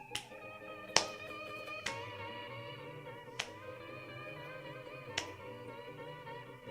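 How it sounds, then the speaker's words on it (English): A person slapping themselves, five sharp isolated smacks spaced irregularly over a sustained musical drone, each hit loud and close. "I'm not clapping, I'm slapping myself."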